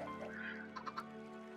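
A Minecraft chicken clucks faintly a few times in a short burst, set against a steady low game hum with no talking.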